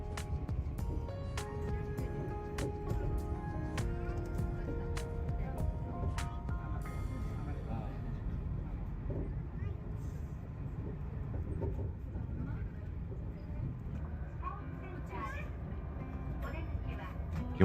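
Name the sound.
Chiba suspended monorail ride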